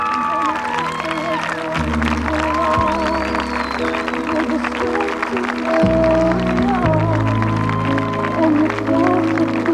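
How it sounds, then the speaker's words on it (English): A large crowd applauds and cheers at a 1997 Littleton high school commencement ceremony, sustained clapping over sustained organ or band chords, with a faint voice passing through. "you guys clap for them"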